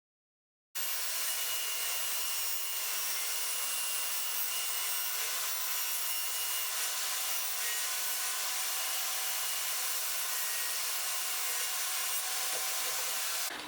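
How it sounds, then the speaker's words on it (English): A saw cuts 12mm plywood to width in one continuous, steady, hissing whine, starting abruptly after a brief silence and running without breaks. "So that's the 12mm ply cut to width."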